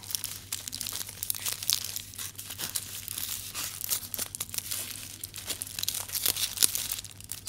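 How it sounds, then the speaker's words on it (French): Aluminium foil wrapped around a large round sandwich crinkles and crackles close up, in busy irregular bursts over a steady low hum, with no talking. "Cette version est dans un tube papier aluminium."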